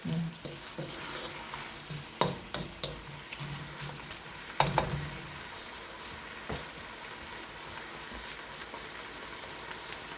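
Chicken with onions and oyster sauce sizzles quietly in a pan while being stirred, a faint crackle broken by a few sharp scrapes and clinks of the utensil.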